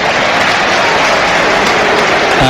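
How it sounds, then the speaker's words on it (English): Stadium crowd at Chelsea vs Everton in a Premier League football match, a loud, continuous roar of cheering and applause filling the whole stretch with no break. "Gets a big cheer every time he touches the ball."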